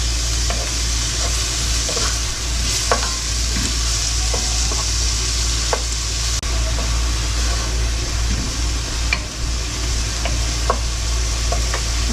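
Garlic sizzling and frying in a pan for a homemade Bucca di Beppo–style marinara sauce, a steady close crackle with intermittent stirring clicks over a low constant hum, no voices.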